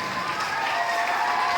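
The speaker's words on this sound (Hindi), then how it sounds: "एक बार जोरदार तालियां उनके लिए" A crowd applauds meritorious students at an award ceremony in Rewa, making a dense, steady wash of clapping that holds at an even level throughout.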